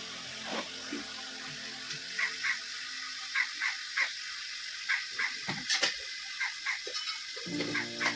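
An electric motor pumps drinking water into a bucket, a steady rushing stream that runs through the whole stretch while a dog barks repeatedly nearby.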